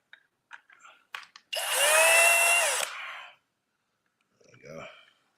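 A cordless power drill backs screws out of a Kraton RC car, with one loud, whining burst of about a second and a half between short clicks and handling noises, followed by a brief spoken remark.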